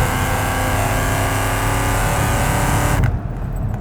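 A Shelby Mustang GT500 V8 revs hard, its supercharger whine riding over a dense engine roar for three seconds before the sound drops away.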